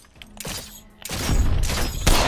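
Weapon gunfire in Apex Legends rings out as a loud, dense burst of rapid shots after a brief quieter lead-in, with the firing continuing through the rest of the moment.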